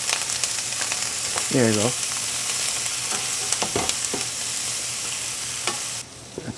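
Butter sizzles in a hot pan while ossobuco cooks, a steady crackling fry with a few stirring knocks and a brief spoken phrase near the start.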